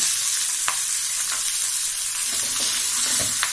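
Oil hissing and sizzling steadily in a frying pan while a spoon scrapes and stirs boiled white chickpeas now and then, close up with no voices.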